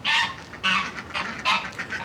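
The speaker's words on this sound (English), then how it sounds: "listening to the goose scream at me in the background" A goose screams loudly in the background, three harsh honking bursts arriving in an uneven rhythm with brief gaps of quieter noise between them.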